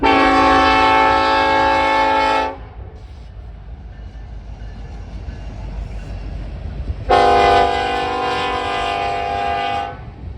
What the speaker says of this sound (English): a westbound manifest with an SD70 ACE leader and another as a mid-DP